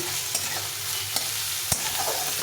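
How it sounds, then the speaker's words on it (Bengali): Chopped onion and garlic frying on low heat in a pan, a steady soft sizzle with a few sharp clicks of a spoon stirring at intervals, close and alone. "পেঁয়াজটাকে একটু গরম করে সুন্দর করে ভেজে নেব"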